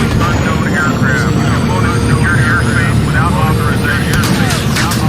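Airplane engine droning steadily and loudly throughout, with a dramatic voice speaking over the aircraft noise.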